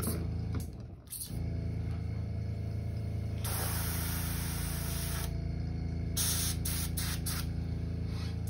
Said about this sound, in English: I'll clean my airbrush out real quick.